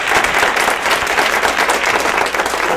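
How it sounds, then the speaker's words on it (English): An audience at an evening presentation applauds to welcome a speaker, a dense, loud, even burst of many hands clapping that fills the short moment. "please give him a big round of applause"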